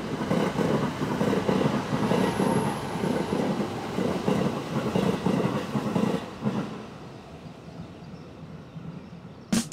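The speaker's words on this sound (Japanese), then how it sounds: "勝田方面からの列車が通過していきます" A passenger train heading from Katsuta toward Shinagawa rumbles past the Tsuchiura yard, a loud steady roar with rhythmic wheel clatter that fades toward the end.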